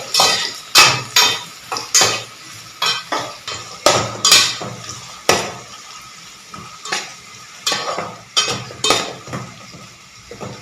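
Okra with onion and green chilli stirred in a frying pan for restaurant-style bhindi sabzi: a spoon scrapes the pan in quick, repeated strokes over a steady sizzle, loud and close, with no talking.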